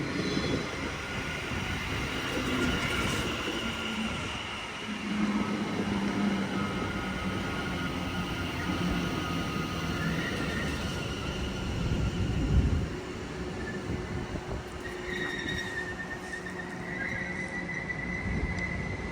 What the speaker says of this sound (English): It's another screeching class 710.